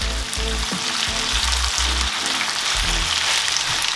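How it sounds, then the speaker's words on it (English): Chicken pieces fry in a few spoons of virgin olive oil in a pan, a steady close sizzle and crackle with intermittent scraping and stirring against the pan's surface. "Just maybe a few spoons of virgin olive oil in the pan here, and I'm just gonna add the chicken now in it"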